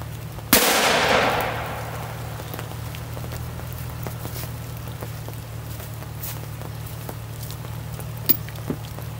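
Two .44 revolvers fired at once on a ranch, one loud sharp blast early on that rings out and fades, followed by a long stretch of steady hum with a few faint ticks.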